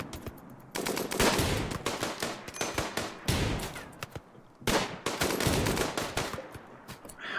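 RimWorld combat gunfire crackles in rapid bursts of automatic shots, two long volleys separated by a brief lull, loud and close with no talking.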